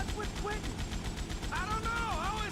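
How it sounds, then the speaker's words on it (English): An M60 machine gun in GTA Vice City fires a steady, rapid stream of rounds throughout, with voices talking over the continuous chatter of shots. "The M60 just has a great sound."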